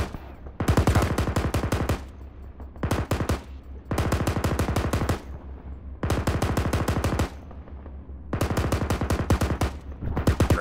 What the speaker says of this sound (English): One, keep suppressing fire on those enemy positions.